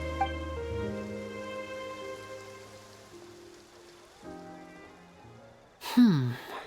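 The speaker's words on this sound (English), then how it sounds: "It rained for longer than I suspected." Rain falling during a Genshin Impact cutscene, a faint diffuse patter beneath prominent sustained orchestral music, with a louder swell of sound at the end.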